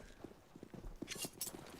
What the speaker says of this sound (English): He can hear the footsteps stampeding towards his location.